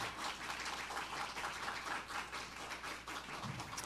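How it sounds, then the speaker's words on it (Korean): Sustained applause from an audience welcoming a guest pastor, dense steady clapping filling the room without pause. "우리 레이 증정할 때 우리 뜨겁게 박수로 환영해 주시기 바랍니다."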